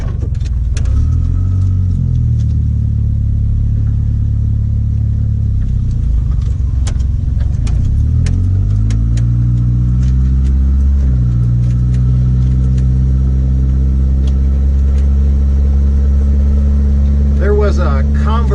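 A motorcycle engine drones loudly and steadily while riding, with its pitch shifting as the bike speeds up and eases off.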